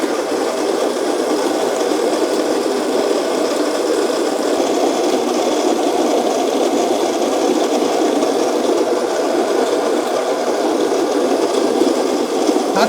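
A Baratza Encore conical burr coffee grinder runs continuously on a coarse setting, its loud even grinding drone and crunching rattle of beans holding steady from start to finish with no voices.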